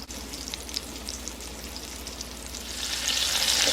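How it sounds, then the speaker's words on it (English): Pork loin browns in hot oil at medium heat, giving a steady close sizzle with crackling spatter that grows louder and brighter toward the end. "carefully place the loins and brown them on each side"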